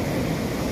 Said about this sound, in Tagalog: Wow, malaki ang alon.